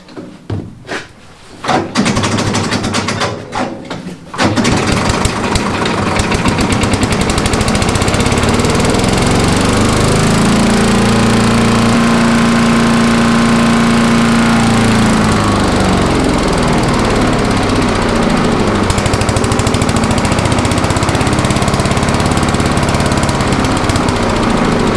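A 5 horsepower Troy-Bilt chipper vac engine, fresh from a coil and spark plug replacement, cranks with a couple of sharp pulls, catches and then runs steadily at a loud, constant roar close to the microphone.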